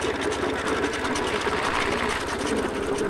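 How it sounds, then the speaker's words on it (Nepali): A tractor approaches at night along a rural road, its engine a steady loud rattling chug with a fast even beat, close and continuous throughout. "ट्र्याक्टर आयो, ट्र्याक्टर"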